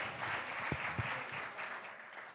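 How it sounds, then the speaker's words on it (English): Quiet audience applause at a campus talk event with a politician, a steady wash of many hands clapping at a distance, fairly faint, with a couple of low thumps, fading slightly toward the end. "Can we have another round of applause for that?"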